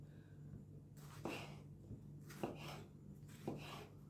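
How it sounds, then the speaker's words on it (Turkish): A knife chops tomatoes on a board in three sharp, evenly spaced knocks, each followed by a brief wet slicing sound, close and fairly quiet with no talking. "1 kilo domatesim var. Onu da doğruyorum."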